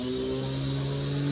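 Welding truck engine running at a brick repair job where a power saw is also in use. It is a steady, loud, droning hum with sustained tones, continuous for the whole stretch, with no talk.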